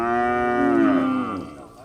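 Cattle kept by Fulani herdsmen give a single long, loud moo up close, lasting nearly two seconds. The call slides down in pitch and fades at the end, with no talking over it.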